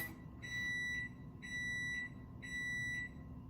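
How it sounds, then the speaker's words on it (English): Electronic beeping from a kitchen stove timer: three steady, loud high-pitched tones, each about half a second to a second long, evenly spaced over a low background hum. "That's my timer for the stove that I was just talking about"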